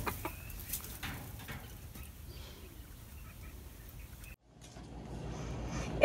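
A backyard chicken near its coop gives soft, scattered clucks and murmurs over quiet outdoor ambience, with a brief silent gap before low rustling returns.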